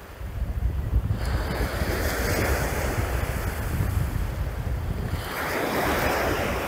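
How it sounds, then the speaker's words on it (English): Steady wind roars across an open shoreline on Browns Bay, buffeting the microphone over a broad rush of surf, constant and close throughout with a brief lull around the middle. "Wind is picking up a little bit."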